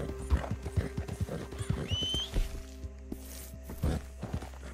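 Steady clip-clop of a horse's hooves in Red Dead Redemption 2, close and regular, with a brief whinny partway through.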